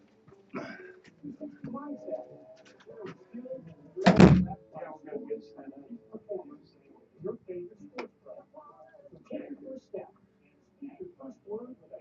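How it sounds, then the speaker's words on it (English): A door is shut with a single loud, close thud midway through, while people talk in a room before and after it. "Close the door."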